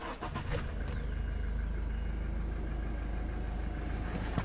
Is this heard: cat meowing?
no